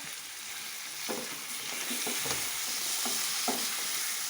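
A chopped large tomato drops into a hot frying pan, giving a steady sizzle with a few soft stirring knocks and scrapes over it.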